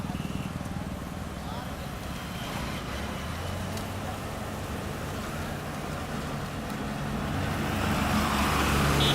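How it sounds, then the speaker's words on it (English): Traffic rumbles over a stabilised road surface built with RBI Grade 81 at Kashipur, Uttarakhand, a steady broadband engine and tyre roar that swells louder near the end as a heavy vehicle draws close, with muffled voices underneath. "The whole traffic is passing through on this."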